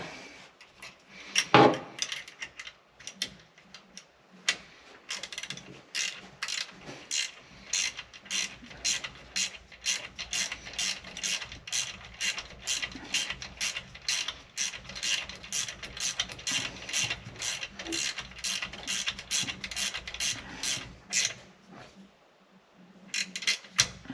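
Ratchet wrench tightening a jam nut on a floor shifter in a 1957 Chevy truck with an LS swap: a long run of rapid, even clicks, close and clear, with a few brief pauses.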